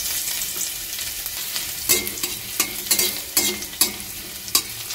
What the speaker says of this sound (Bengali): আদা রসুনটাকে আমি একটু ভেজে নেব,